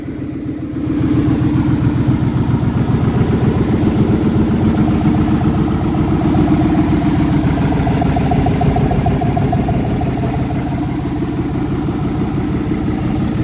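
Engine of a 1989 Lincoln Town Car idling loudly with a broken exhaust, a close, steady, throbbing rumble with a rapid pulsing beat that runs the whole time after a brief start.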